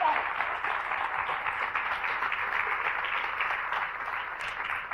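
Sustained audience applause, a dense crowd clapping steadily throughout at moderate loudness.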